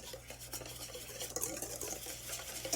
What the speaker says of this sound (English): once you have your dry ingredients for our brownie base, I'm just going to give that a good mix